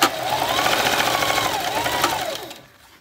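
A sewing machine runs in one steady, close burst while stitching layers of a fabric face mask, with a rising and falling motor whine, then stops and fades.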